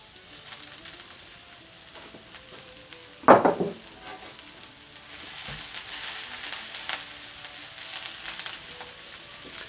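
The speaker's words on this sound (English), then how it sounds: "we're going to put in our asparagus and our onions. We'll saute that for about 5 minutes" Asparagus and onions sauté in a pan with a steady, soft sizzle, broken by a sharp clatter of stirring early on, then continuing as gentle frying.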